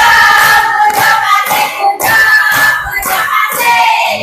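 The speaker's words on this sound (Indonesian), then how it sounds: "Oke, tepuk tangan." Classroom audience clapping after a presentation, a dense burst of hand claps mixed with cheering voices, loud and close, sustained through the whole stretch.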